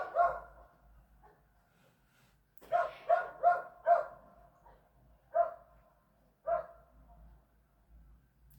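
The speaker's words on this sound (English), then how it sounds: "Stop barking, I'm sorry." A dog barks in a run of sharp barks, starting with a single bark, then a quick cluster of four and a few spaced ones after, fairly close with quiet gaps between.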